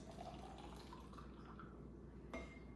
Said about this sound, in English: I have some water boiling here, so I'm gonna go ahead and pour this over both of these carafes